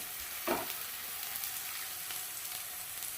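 Chopped onions frying in a pan for a mutton jhol, giving a steady soft sizzle with a small stir or clatter near the start; no one speaks.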